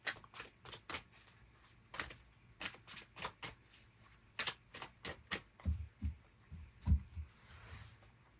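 Tarot cards being shuffled, soft quick papery flicks in irregular bursts close to the microphone, faint and dry, ending in a few low dull taps, with no talking.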